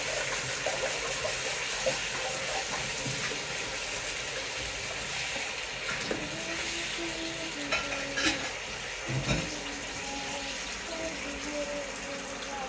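Sweet and sour sauce with carrots simmering in a pan for sweet and sour meatballs, giving a steady close bubbling sizzle with faint stirring and scraping throughout, no talking.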